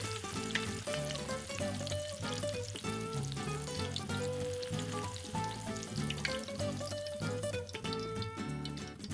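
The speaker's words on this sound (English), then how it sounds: "add in some thinly sliced garlic, 3 to 4 grams or 2 teaspoons of chili flakes, and cook it for about a minute or two until fragrant" Thinly sliced garlic and chili flakes sizzle in a pan for shrimp scampi, a steady hiss and crackle lasting throughout beneath a rhythmic music bed.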